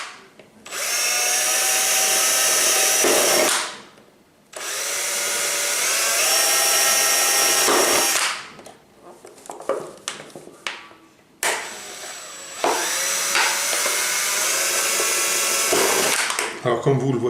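A power drill bores holes in the low points of a plastic hornet trap. There are three long, loud high-pitched whirring bursts, separated by short stops and a few brief stuttering pulses.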